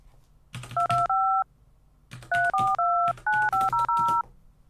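Touch-tone keypad beeps dial a phone number: a short burst of three tones, a pause, then a rapid run of seven more, each press paired with a faint button click, close and loud.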